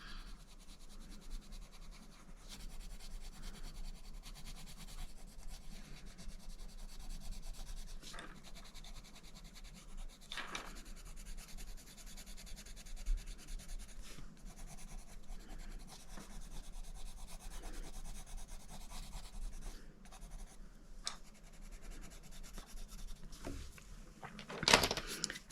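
Colored pencil shading on paper with a white pencil layered over the color, soft continuous rubbing and scratching strokes up close, quiet and steady with brief pauses between passes.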